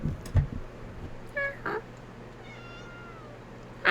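A cat meows in short, high, wavering calls several times, close and fairly loud, with a few soft bumps and faint background noise between them.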